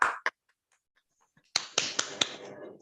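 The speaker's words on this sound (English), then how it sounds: "So let's start with a big round of applause." Participants at an online Toastmasters meeting give a small round of applause: a sharp isolated sound at the start, a quiet gap, then a few crisp separate claps or snaps in quick succession over the call.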